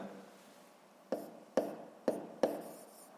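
Chalk or marker strikes a board in four short, crisp taps during a math lesson, spaced about half a second apart over a quiet background with no talk.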